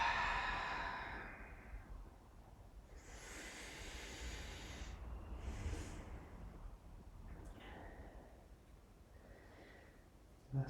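Slow, steady breaths drawn in and let out during a seated forward fold over the left leg in a yoga session, soft and close with long hissing exhales and quiet pauses between them.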